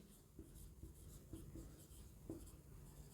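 Chalk or marker writing on a board during a Class 12 chemistry lecture on solutions, a few soft scratchy strokes at moderate distance with a low room hum underneath and no talk.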